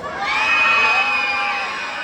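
A crowd at a barangay beauty pageant erupts in high-pitched cheering and shrill shouts, a sustained loud roar of excited voices lasting a couple of seconds.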